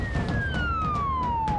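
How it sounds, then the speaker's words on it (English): A wailing emergency vehicle siren, likely an ambulance responding to a breathing-problems call, sweeps in a steady descending tone, loud and continuous with a low engine rumble beneath. "As the boys race lights and sirens"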